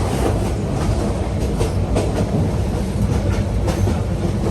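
Cox's Bazar Express train running on its rails, a loud, steady rumble with rhythmic clickety-clack of the wheels over the joints, close and continuous without a break, and nobody talking over it.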